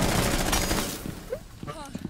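A fast-firing gun rattles in Rainbow Six Siege, a loud dense burst for about a second before it cuts off and gives way to quieter game sounds and a voice.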